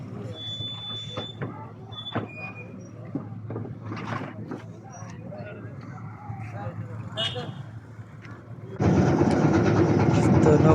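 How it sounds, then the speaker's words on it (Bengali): A motor boat engine drones steadily during a river crossing in a village, with people talking throughout; a louder, broadband engine roar surges in near the end. "নৌকা ভ্রমণে দেখেন আমরা এখন বর্তমানে নদী পার হয়ে যাচ্ছি"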